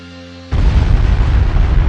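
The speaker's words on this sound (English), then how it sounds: "Suddenly, a terrible explosion shook the earth" A volcanic explosion of Vesuvius, rendered as a documentary sound effect, bursts in suddenly after a half-second of quiet tone and becomes a loud, sustained, rumbling roar with no voices.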